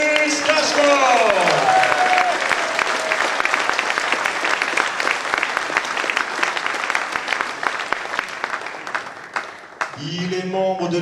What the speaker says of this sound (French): Merci d'applaudir Kiris